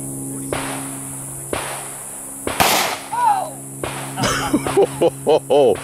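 Firearm shot at an outdoor gun range: one sharp loud crack near the middle, with people talking and exclaiming around it.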